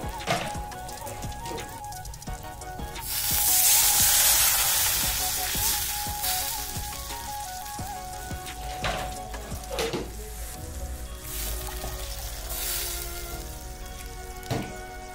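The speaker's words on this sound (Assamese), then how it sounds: "পানী দিম এতিয়া" Water splashes into a hot pan of Maggi noodles, setting off a loud burst of sizzling and bubbling that gradually settles into a steady crackle, with scattered clinks and scrapes of stirring.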